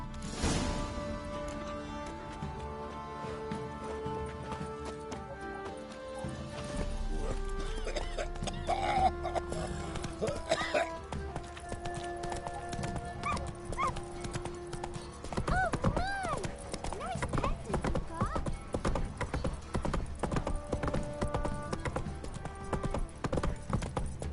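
Roach the horse trots in The Witcher 3 with a steady, close clip-clop of hooves running throughout beneath sustained musical tones.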